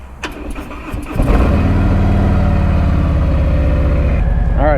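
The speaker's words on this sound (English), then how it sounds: "I've let the bike warm up for a minute." A 2019 Harley-Davidson Street Glide motorcycle on fresh tires starts up, then settles into a steady, loud, close-up idle with a deep uneven rumble that holds for several seconds.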